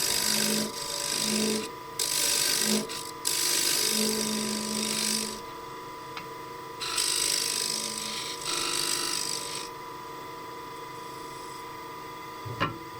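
Scraper cutting a small wooden box turning on a lathe: a steady, harsh scraping rasp over the lathe's hum, broken into several bursts with short pauses, close and loud, with no talking.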